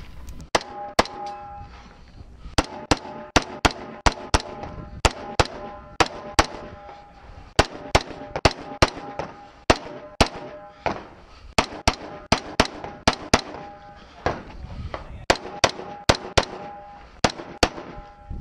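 Rifle shots on a 3-gun competition stage at Superstition Mountain, a long run of sharp, loud cracks in quick pairs and clusters with short pauses between strings.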